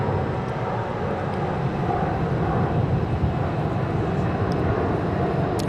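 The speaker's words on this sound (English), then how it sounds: "go around for this United flight with the beak" A United airliner on a go-around at Phoenix airport gives a steady, broad jet engine roar that holds at constant loudness throughout, with no voices.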